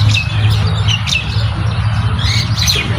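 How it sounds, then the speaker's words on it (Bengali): Myna birds bathing at midday behind a wire fence chirp in quick, scattered high calls and occasional squawks, heard over a constant low background hum. "শালিক পাখিগুলা যেভাবে কিচির করতেছে"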